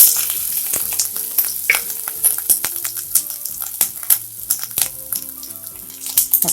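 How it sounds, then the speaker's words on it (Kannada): Ginger crackles in hot oil with mustard seeds and cumin, giving a busy, steady sizzle broken by sharp pops and the clink of a stirring spoon, close up with no voices. "ಸಾಸಿವೆ, ಜೀರಿಗೆ ಹಾಕ್ಕೊಳ್ಳೋಣ. ಶುಂಠಿ ಸ್ವಲ್ಪ ಹುರ್ಕೊಳ್ಳೋಣ."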